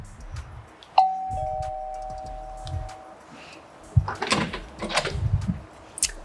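A smart home doorbell at a house in Tyrol chimes once with a clear, sustained electronic tone that rings for about two seconds, followed by clattering and muffled movement near a door.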